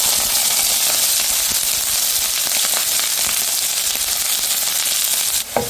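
Onion and green chili frying in hot oil with turmeric and browned dried chili, a steady dense sizzle that runs close and fairly loud throughout, ending in a brief stir or clatter.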